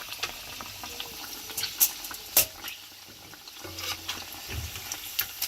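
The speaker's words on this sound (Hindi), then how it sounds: "ये आप देख सकते हैं कितनी ज़बरदस्त ये फ्राई हुई है और कितनी क्रिस्पी ये बनी है।" Mutton chops fry in a pan with a soft, continuous sizzle, broken by sharp crackling pops and occasional stirring clinks, close up and without talk.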